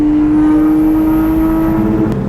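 A Lexus IS300 fitted with new headers holds a loud, steady engine drone from close by, an even buzzing tone that stays level without any voices.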